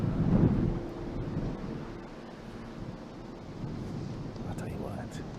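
Gusty wind buffets the microphone on the golf course at the RSM Classic, rising and falling in a low rumble beneath a commentator's voice.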